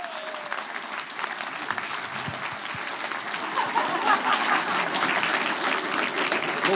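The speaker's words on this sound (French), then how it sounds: "Mesdames et messieurs, sous vos applaudissements, Monsieur Davy Mourier" Sustained audience applause fills a venue as comedian Davy Mourier is welcomed on stage, a dense, steady clatter of many hands that swells slightly toward the end.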